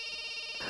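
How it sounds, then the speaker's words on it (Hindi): A phone rings persistently in a film scene, a faint, steady electronic ringtone buzz holding for under a second with no voices over it. "अरे बार बार फोन बज रहा है, उठाते क्यों नहीं हो?"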